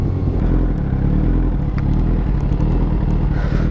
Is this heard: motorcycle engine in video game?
yes